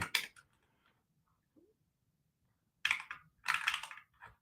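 Bursts of computer keyboard typing at close range, a quick flurry at the start and two longer rattling runs near the end, separated by near silence.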